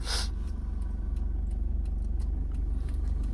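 A Toyota Fortuner's diesel engine idles with a steady low rhythmic throb just after starting, a brief louder burst at the outset, and faint clicks scattered over the running engine.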